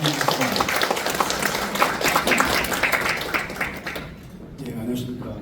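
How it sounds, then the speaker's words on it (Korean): An audience at a ceremony in a small meeting room claps enthusiastically for several seconds, the applause then tapering off into quiet room noise. "뜨거운 박수로"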